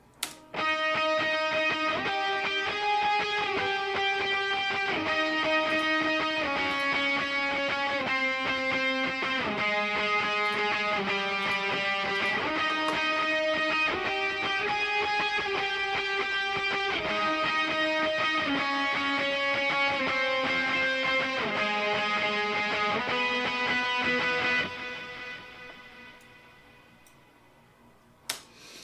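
Electric guitar plays a repeating chord pattern with lush reverb and echoing delay, sustained and loud, then rings out and fades over the final seconds.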